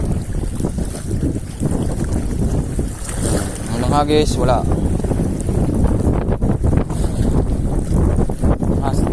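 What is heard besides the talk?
strong wind while fishing from a boat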